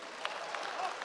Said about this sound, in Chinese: 没想到还能引起掌声。